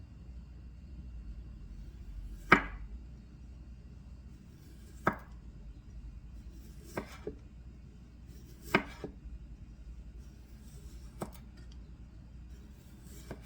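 A kitchen knife slices radishes thinly on a cutting board. About six sharp, separate cuts land every second or two against a quiet, low background hum.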